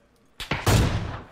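PUBG sniper gunfire, likely an AWM: a couple of sharp cracks followed by a heavy, booming report whose echo tails off over the next half second.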